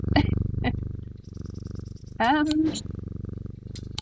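Jupiter the cat in the video game Strange Antiquities purrs in a steady low rhythmic rumble, broken by a short higher trill or meow in the middle.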